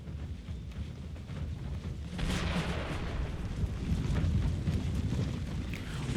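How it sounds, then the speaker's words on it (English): Cannon fire from a video game battle, a dense rumbling barrage of low booms swelling after the first couple of seconds and continuing steadily to the end, with no voices over it. "Let's let my cannons do their thing. Fire at will."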